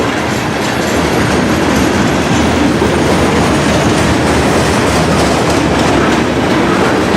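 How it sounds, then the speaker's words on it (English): Wheels of a long 90-car grain freight train rumble steadily past at close range in Rocky Mount, North Carolina, with constant clickety-clack over the rails and occasional faint squeal, loud and unbroken. "And here comes the end of this monster grain train."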